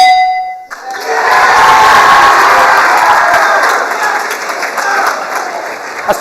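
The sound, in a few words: game show audience cheering and applauding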